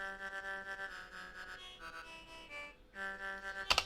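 A synth wave bass plays dry with no effects and its lowest end trimmed, sustained tonal notes shifting pitch in a simple line, ending in a sharp brighter hit.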